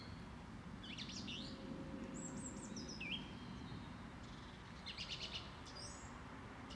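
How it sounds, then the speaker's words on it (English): A song thrush sings in the countryside along a bridleway near Pangbourne, giving faint, distant repeated whistled phrases and short trills over a steady hush of background noise. "Lovely song thrush song there."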